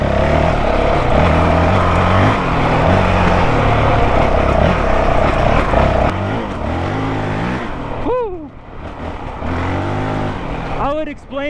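A 2023 Honda CRF450X dirt bike fitted with a thermostat delete kit roars along trails, its engine loud and near with repeated rising revs and sharp throttle sweeps toward the end.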